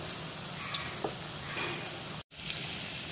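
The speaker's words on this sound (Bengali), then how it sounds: "আমি এখন লোতে লো ফ্লেমে ফ্রাই করছি শ্যালো ফ্রাই হচ্ছে" Veg manchurian balls shallow fry in oil over a low flame, giving a soft, steady sizzle with a few faint pops and a brief dropout partway through.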